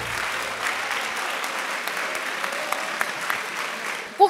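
An audience at a lecture breaks into sustained applause, an even wash of many hands clapping at moderate volume that continues throughout.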